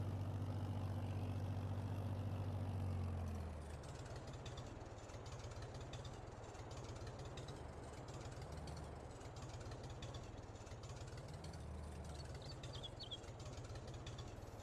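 An old farm tractor engine runs during field plowing, with a loud low idle rumble at first that drops into a quieter, rhythmic knocking chug.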